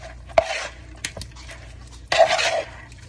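A spoon stirring seasoned shrimp with salt in a bowl gives soft scraping and a couple of sharp clinks against the side, with one brief louder burst of mixing near the end.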